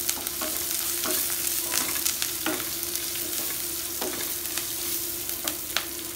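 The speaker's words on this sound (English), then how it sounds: "Fry the onions till it is translucent." Onions frying in a pan with salt over a medium flame for spinach fry, a steady sizzle broken by intermittent scraping stirs, close and moderately loud with no talking.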